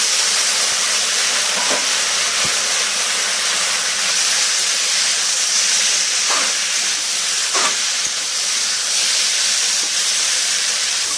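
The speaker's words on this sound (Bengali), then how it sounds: "এবার এর মধ্যে মাছগুলো দিয়ে দেবো, একটু নাড়াচাড়া করে নেব।" Shrimp and boiled mixed vegetables fry in a pan for a thick Bengali ghonto, giving a steady loud hiss with occasional soft scrapes of stirring and no talking.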